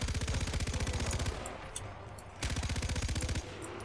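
Light machine gun from Far Cry 4 rattling off two sustained automatic bursts, each about a second and a half long, separated by a short lull filled with faint game ambience.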